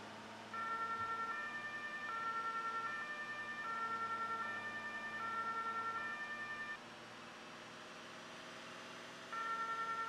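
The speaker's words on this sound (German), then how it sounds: "Mach Martinshorn und E-Horn zugleich an, das ist cool." Siren of an emergency vehicle in the Notruf 112 firefighting video game, a steady two-tone wail cycling loudly for about seven seconds, briefly dropping out, then resuming near the end, with no talk over it.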